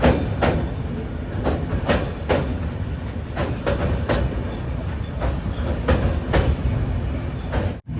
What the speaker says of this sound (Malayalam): ബണ്ട്വാൾ റെയിൽവേ സ്റ്റേഷനിലേക്ക് ഇതാ നമ്മുടെ ട്രെയിൻ എത്തിക്കൊണ്ടിരിക്കുകയാണ്